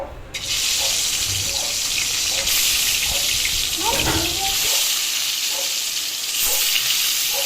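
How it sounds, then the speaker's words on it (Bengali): Fish fries in oil in a wok, a steady bright sizzle and crackle heard close and continuous throughout, with a few soft clinks of a utensil. "কড়াইতে তেল দিয়ে দিলাম দিয়ে মাছগুলো আমি খুব ভালোভাবে ভেজে নেব"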